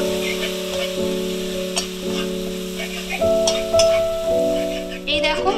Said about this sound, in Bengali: ভালো করে মশলাটা আমার কষিয়ে নিতে হবে